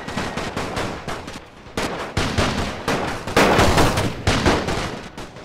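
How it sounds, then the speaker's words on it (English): Sustained machine gun fire in the war strategy game The Great War, loud rapid bursts of shots with brief pauses between volleys and no voices. "even with machine gun fire coming our way"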